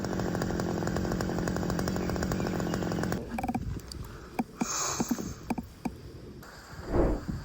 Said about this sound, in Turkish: Haydi, bu kütüğü testereyle keselim.